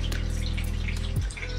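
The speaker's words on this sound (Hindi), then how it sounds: "हम इसमें थोड़ा सा पानी डालेंगे" Water being poured into a Hindi-style mustard fish curry spice paste with dried red chillies before grinding, heard as a brief, close trickle and splash over a steady low hum, with no talk.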